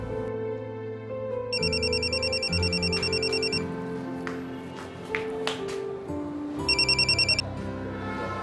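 A telephone rings with an electronic ringtone in two separate bursts of rapid, warbling trills. It is loud and close over a quiet musical background.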